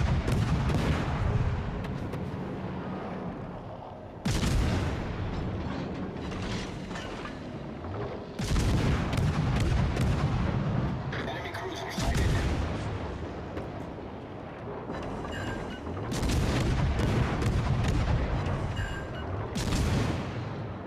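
Heavy warship guns boom in repeated salvos in World of Warships: Legends, each loud blast followed by a rumbling decay and mechanical clanks, spaced several seconds apart across the clip.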